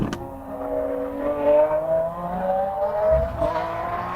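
A Lamborghini Aventador S with its 740 hp V12 driven on a race track in Spain, a steady, loud engine drone rising and falling in pitch as it pulls and eases, with no talk over it.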